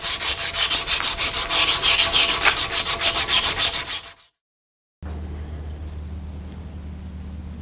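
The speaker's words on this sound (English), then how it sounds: "Sandpaper can be used to blend any marks left from the file or the angle grinder" Sandpaper is rubbed back and forth across a steel forging hammer face in quick, rhythmic strokes, loud and close, ending abruptly in a brief silence before a low steady background hum.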